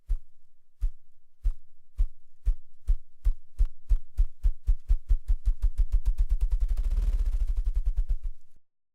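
A male ruffed grouse drums for a mate in an aspen forest. Deep, muffled thumps start slow and evenly spaced, then speed up into a rapid whirring roll that fades out, heard alone and fairly close.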